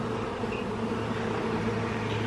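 Honeybees buzzing in an open hive during an inspection, a continuous droning hum holding steady and close throughout, with no talking.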